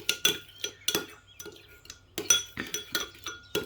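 A spoon stirs hot sauce and another sauce together in a bowl for a zinger burger, making a quick, irregular run of close metallic clinks and scrapes against the bowl.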